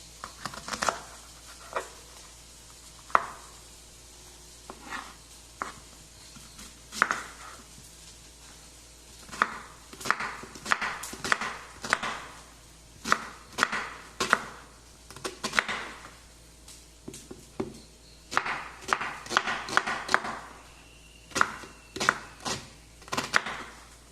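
Soya chunks being chopped into small pieces for soya chilli, close irregular knife taps and crunchy cuts on a board, sparse at first and then coming in quicker clustered bursts, with no talking.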